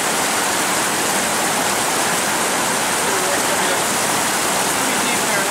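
A person wades through deep water in a stream near a waterfall, with the rushing torrent filling the scene as a loud, steady roar and no distinct splashes standing out.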